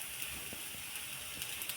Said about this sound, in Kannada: ರೊಟ್ಟಿ ಕೂಡ ಬೇಯ್ತಾ ಇದೆ ನೋಡಿ